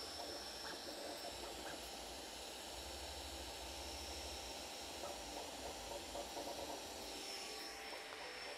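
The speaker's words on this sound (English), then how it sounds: "The 50-20 blower or the 40-20 blower that they're using is just really obnoxious. It's very, very loud." The blower fan of an SV06 Plus Ace 3D printer runs continuously, a steady, loud airy whir with a thin high whine, unchanging across the whole stretch.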